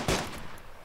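One loud gunshot rings out in a video game, up close, with a sharp attack and a long echoing tail that fills the rest of the brief moment.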